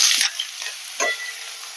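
Cut pears drop into hot oil tempered with a dried red chilli, giving a short, quiet sizzle with a couple of soft stirring scrapes in a pan.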